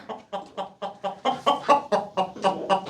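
Chickens clucking close by in a quick, steady series of short rhythmic calls, about a dozen in a row, loud and clear with no talking.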